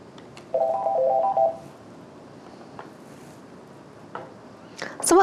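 An NEC SL1100 desk phone rings briefly, a steady electronic tone near the start, then falls quiet until short dialing blips close out the moment, all close and fairly soft.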